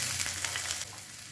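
Chopped onion and garlic with curry leaves sizzle briskly in a pan, a close, bright frying hiss that holds steady, easing slightly near the end.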